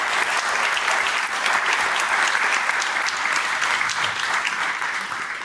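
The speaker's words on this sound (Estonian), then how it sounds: "Teeme suure aplausi meile kõigile" A hall full of people applauds at a municipal anniversary celebration, with loud, sustained, even clapping from start to finish.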